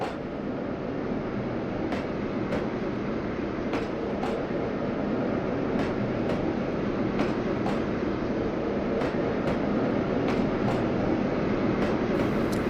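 A tram in the video game Trainz pulls away and gathers speed: a steady, even rumble with faint regular clicks of the wheels passing rail joints, with no voices.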